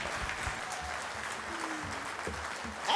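A group applauds after singing the spiritual "Swing Low, Sweet Chariot", a sustained, even patter of many hands clapping at moderate volume throughout, with faint voices briefly mixed in.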